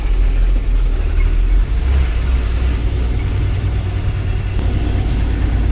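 A loaded Tata Signa ten-wheel truck runs in sixth gear, its engine a continuous heavy low rumble that stays loud and even throughout, with no voices.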